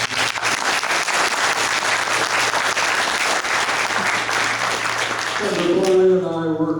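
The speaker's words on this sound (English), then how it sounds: "I hope you all can give a round of applause to State Senator Donna Foley," Loud, sustained applause at a Parkersburg Tea Party senatorial election forum greets State Senator Donna Foley, dense clapping filling the room before it fades out at the end.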